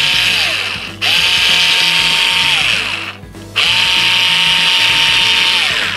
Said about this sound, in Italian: È sul taglio ondulato con la stoffa che è molle